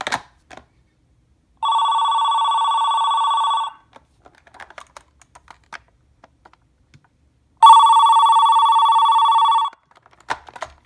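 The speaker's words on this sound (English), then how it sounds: "I think that's my favorite corded phone ringer, actually." A 1989 AT&T 210 Trimline corded phone rings on its high setting, two loud electronic warbling bursts of about two seconds each separated by quiet handling clicks and taps.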